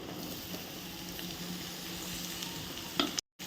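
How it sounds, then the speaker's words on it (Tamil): Cut beetroot pieces sautéing in oil in a pan with onions, giving a steady close sizzle with faint stirring scrapes and one brief clatter near the end before a short dropout. "இந்த பீட்ரூட் எல்லாமே இந்த எண்ணெயில் படுற மாதிரி நல்லா இந்த மாதிரி வதக்கி விட்டுக்கோங்க"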